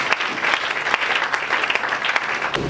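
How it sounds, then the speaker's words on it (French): A church congregation bursts into loud, sustained applause in praise of Jesus, dense clapping close and filling the room for the whole stretch, with faint cheering mixed in. "Acclamons très fort pour le Seigneur Jésus"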